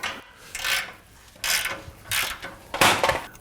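A ratchet wrench turns a GearWrench Bolt Biter socket on a 2000 Acura Integra, giving several short, separate bursts of rasping clicks up close, with no talk.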